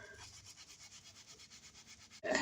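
A wire brush scrubs a worn box cutter in quick, even back-and-forth strokes, a steady rhythmic rasp lasting about two seconds before a louder burst of noise at the end.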